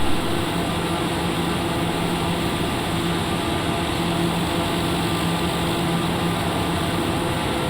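A TBM 930 turboprop engine roars at full takeoff power, heard from inside the cabin as a loud, steady broadband drone with faint tonal hum, unbroken throughout.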